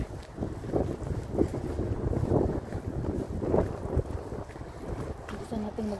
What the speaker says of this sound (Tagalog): Lakas ng hangin, masisira yung payong ko